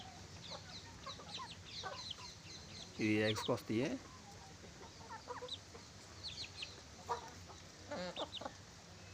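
Backyard flock of about thirty country chickens, roosters and chicks: scattered clucks and squawks near and far, one loud burst of harsh calls, with someone talking intermittently.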